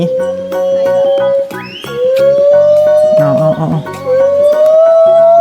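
Loud, rising whooping calls of a gibbon at a zoo ring out repeatedly, long sweeping hoots close by, while a person speaks briefly over them.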